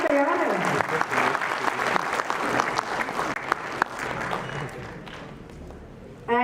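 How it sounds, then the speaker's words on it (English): Audience applause at the Hindu Council of Kenya's Golden Jubilee celebration, marking 50 years from 1971 to 2021: a loud, sustained clapping crowd that fills the room and slowly thins toward the end. "Big round of applause."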